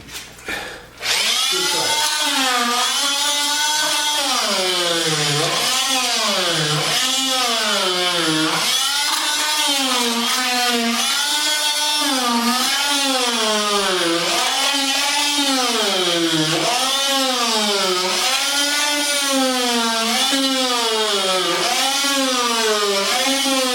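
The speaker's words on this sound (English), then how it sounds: "I'm going to cut the linoleum into strips and take up a strip." A power tool cuts linoleum flooring into strips, a loud, continuous, close whine that surges and dips in a regular rhythm with each pass of the cut.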